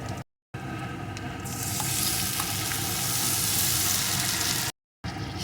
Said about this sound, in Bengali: পেঁয়াজটা খুব বেশি লাল লাল করবো না একটু ভাজা ভাজা হলেই